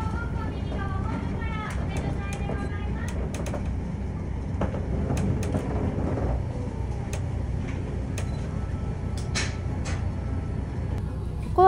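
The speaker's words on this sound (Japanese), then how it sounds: "列車は阿波駅に到着。" Rumbling antique train with clacking and squealing metallic sounds as it slows into seaside Aki Station in Kochi, Japan, steady low rumble under scattered clanks and brake squeals.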